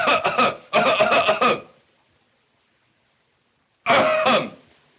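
A man coughs and clears his throat in a run of several harsh bursts, then falls silent before one more short cough, close and fairly loud with no talk.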